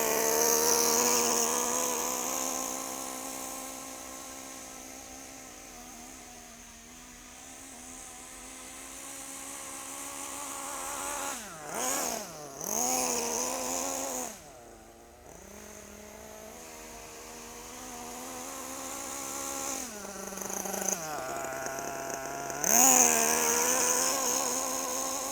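A Kyosho USA-1 nitro RC truck engine revs at part throttle, a high buzzing whine that holds steady, then dips and surges in several sharp blips, heard close and fairly loud with no talking.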